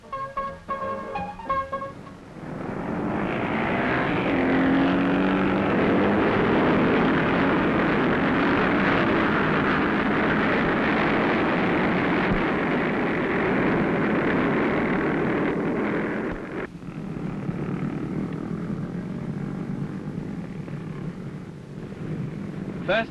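A pack of racing motorcycles at the 1957 Thruxton Marathon start, including a 700cc Royal Enfield Super Meteor Twin and a BSA, roars up loudly and holds a dense, sustained engine din before easing to a quieter drone, with voices underneath.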